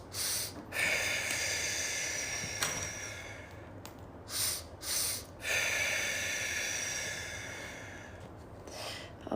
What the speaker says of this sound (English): 2 inhales and 1 exhale.